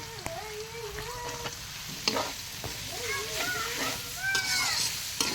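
Potato, eggplant and radish pieces hit a hot pan with oil and start frying, giving a steady close sizzle with stirring scrapes, while a voice talks over it.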